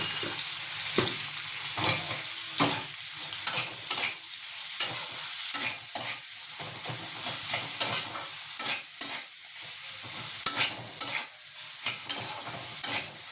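Onions with a little salt frying in oil and stirred until soft, a constant sizzle broken by frequent sharp scrapes and knocks of the spoon against the pan, close and loud, in uneven rhythm.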